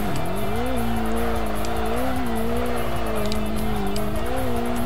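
Car in the racing game Kaido Racer 2 spinning its wheels, with a steady engine drone and a continuous tyre squeal that holds throughout, close and loud.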